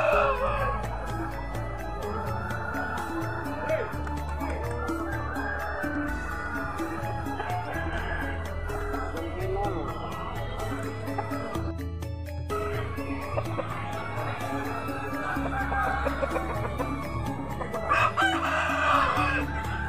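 Bangkok fighting roosters at a busy outdoor chicken market crow repeatedly over a steady, dense din of clucking fowl and crowd noise across the whole stretch.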